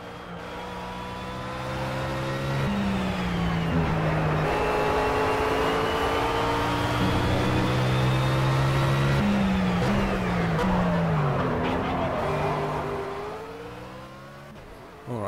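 Race car engine lapping a track in the video game Project CARS, loud sustained revving that climbs and drops with gear changes and corners, continuous and close throughout with no talk over it.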